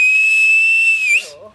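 A man whistles one loud, sustained high note that wavers and drops at the end, close by, and a voice follows right after.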